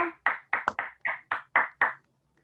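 Seven separate hand claps at a steady, slightly uneven rhythm, close and fairly crisp, fading to silence at the end with no talk.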